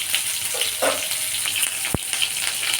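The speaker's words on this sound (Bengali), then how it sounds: "এইভাবে পটলগুলো ভেজে নিতে হবে" Soft, steady sizzling of pointed gourd frying in oil, with faint crackles and one brief knock against the pan.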